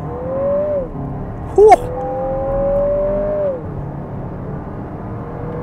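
A 2024 Lexus NX 350 F-Sport launches from brake torque toward 60 mph, its engine note climbing steadily, dropping briefly at a gear change, then rising again. A person lets out a short exclamation partway through the run.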